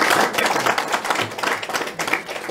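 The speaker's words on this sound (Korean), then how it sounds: "큰 박수로 맞이해주세요" Audience at a Mapo Forum gathering welcomes Ahn Cheol-soo with lively, close applause, rhythmic bursts of clapping that rise and fall across the whole stretch.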